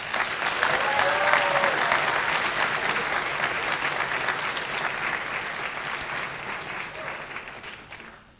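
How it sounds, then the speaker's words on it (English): An audience applauds at a student awards convocation, with sustained, dense clapping that fills the hall at a steady level and fades out at the end, without talk over it. "Please give them a round of applause."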